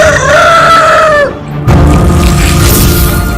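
Rooster crows loudly and close for about a second, a rising then falling call, followed by a brief pause and then a dramatic booming musical hit in a news segment.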